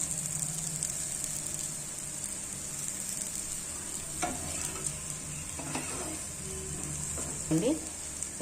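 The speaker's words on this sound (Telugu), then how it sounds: "సిమ్లో పెట్టుకొని వేయించుకుంటే ఈ ఆనియన్స్ అవన్నీ వేగుతాయి" Onions fry quietly on a low flame beside pesarattu, a green gram dosa, giving a soft, steady sizzle with a few light stirring scrapes in the second half.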